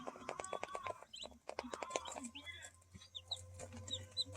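Day-old and freshly hatched baby chicks peep in short, high, repeated chirps, close by. The peeps come through more clearly in the second half, after a run of tapping and handling clatter.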